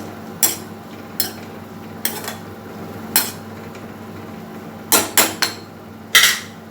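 Spoon clacking against a cooking pot while snake gourd and lentils are mixed together, a series of sharp metallic taps and scrapes spaced irregularly over a steady low kitchen hum, with a quick cluster of knocks near the end.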